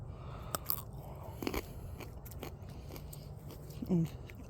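Someone bites and chews a tiny garden cucumber, with a few sharp, close crunches and wet chewing sounds over quiet outdoor background, and a brief vocal murmur near the end.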